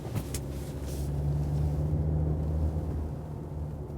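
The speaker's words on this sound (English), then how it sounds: "Oh, even the shifting down you hear very well done." Interior sound of a 2017 Mercedes E-Class W213 downshifting while driving, a soft low engine hum that swells briefly as revs rise, then settles under steady road noise.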